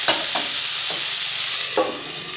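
Potato and cauliflower frying in a pan, a loud close sizzle with a few stirring scrapes and clacks at intervals.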